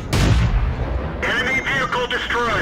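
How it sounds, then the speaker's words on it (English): Rapid-fire tank guns shooting in the World of Tanks video game, with a heavy opening blast followed by a dense string of quick cracking shots and ringing echoes, loud and close. "the M7 and I just cut loose on him with our rapid fire guns"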